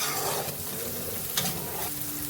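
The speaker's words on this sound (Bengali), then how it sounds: "এবারে আমি মশলাটা ভালো করে কষিয়ে নেব।" Spices with Kashmiri chili powder, hot chili powder and salt frying in oil in a pan for khichuri, a steady close sizzle with light stirring scrapes and a brief utensil tap, no voices.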